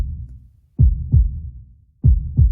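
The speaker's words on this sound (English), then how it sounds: "feel your heart pounding in your chest." A heartbeat sound effect of a pounding heart, heard alone as two deep, loud double thumps with a short gap within each pair and a longer pause between the pairs.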